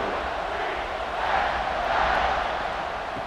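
A college football stadium crowd roars just before kickoff, Pittsburgh visiting UCF, a dense, steady wash of cheering that swells slightly midway and holds loud throughout, with no clear voices standing out.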